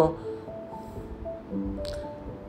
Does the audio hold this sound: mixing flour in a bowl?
yes